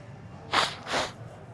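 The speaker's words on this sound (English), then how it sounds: "I'm going to blow my nose." A person blows their nose indoors in two loud, close nasal bursts, one short pause between them, with quiet room noise before and after.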